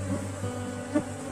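A dense buzz of honeybees hums continuously at an apiary, close and steady, with individual bees droning past near the listener over the swarm's drone.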